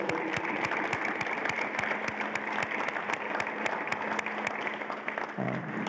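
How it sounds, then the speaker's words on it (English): An audience at a strength-training seminar for youth football coaches claps for the presenter, a steady, fairly loud patter with some sharp individual claps standing out before it stops abruptly. "I think we can give applause to Nicole."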